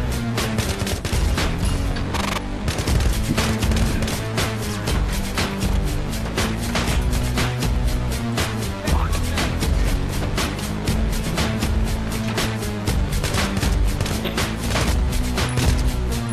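Dense, loud gunfire in Battlefield 3 with sniper rifles in the mix, shots cracking in rapid, nearly continuous bursts that layer into a constant barrage with no talk over it.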